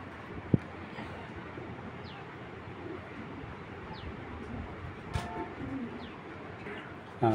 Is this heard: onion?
no